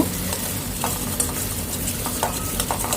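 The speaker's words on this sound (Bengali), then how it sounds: "এই কড়াইতে তেল দিয়ে দিলাম দেওয়ার পরে ডিমটা স্ক্র্যাম্বল এগের মতো করে খুব সুন্দরভাবে ভেজে নিব" Eggs scrambled and fried in oil in a wok, a steady close sizzle broken by scraping stirs of the spatula against the pan, loud and continuous with no voices.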